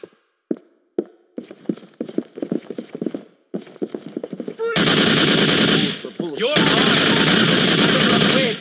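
Gunfire in Grand Theft Auto IV, opening with scattered single shots and short bursts, then swelling into loud, dense sustained automatic fire with shouting voices mixed in.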